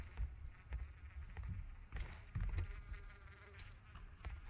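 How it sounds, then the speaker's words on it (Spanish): Flies buzz close by in the PUBG video game, a steady insect drone over low rumbling game noise, with a few soft thumps and patters throughout. "las moscas se escuchan más que a la gente"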